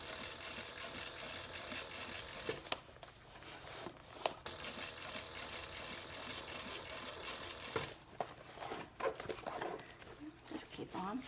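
A sewing machine stitches a seam around the bottom band of a handbag, running in a steady, continuous whir with brief pauses and small clunks as the bag is repositioned, and a voice talks over it.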